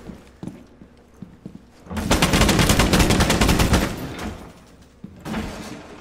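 Rapid automatic gunfire from the video game Rainbow Six Siege rattles loudly in a sustained burst of about two seconds, followed by a shorter burst, with scattered clicks and thuds between.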